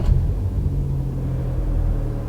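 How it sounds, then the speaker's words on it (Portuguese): Fiat Argo Trekking 1.3 CVT started by push button, settling into a steady low idle rumble that stays close and constant after a brief initial burst. "Eu vou ligar o carro, então eu vou apertar aqui no lado do botão"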